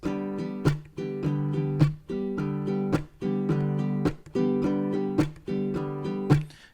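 A baritone ukulele is strummed in a steady rhythm, with ringing chords broken regularly by crisp muted chunk strokes, repeating in a bouncy pattern for several bars.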